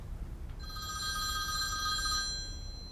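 A telephone bell rings with a sharp, sustained trill after a short quiet pause. It is clear and fairly close over low background rumble.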